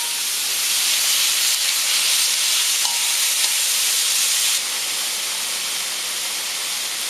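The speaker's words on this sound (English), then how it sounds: "We want it to brown and stir fry." Beef sizzles and hisses in a hot wok during a stir fry, a loud, continuous frying hiss that drops slightly in level partway through, with a few faint scrapes and no talk.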